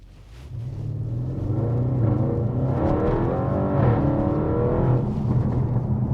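A Revo Stage 2 tuned Audi RS7 super saloon with a Milltek exhaust accelerating hard from rest to 60, giving a loud, steady, deep engine roar that builds and holds throughout, close and continuous with no talk.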